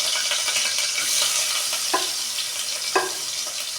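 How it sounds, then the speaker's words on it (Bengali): Ginger, garlic, cumin and onion fry in hot oil with a dense, close sizzle, broken twice by brief scraping strokes of a spoon. "এবার আমি আদা রসুন আর হচ্ছে জিরাটা আমি একসাথে ফোড়নে দিয়ে দিলাম।"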